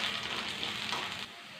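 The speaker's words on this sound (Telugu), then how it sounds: "ఏగిపోయినవి తమలపాకులు కాడ వేపుకుందామండి నూనెలో." Betel leaf stems fry in hot oil for a tomato chutney, giving a close, steady hissing sizzle that eases off slightly near the end.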